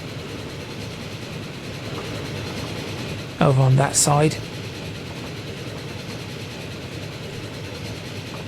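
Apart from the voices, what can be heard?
iron freight train passing in Transport Fever 2 video game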